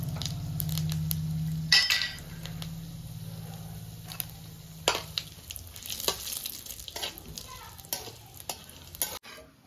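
Bay leaves, dried red chillies and cumin seeds hit hot oil for tempering, giving a steady crackling sizzle with occasional sharp pops and utensil clinks, close and unaccompanied by talk.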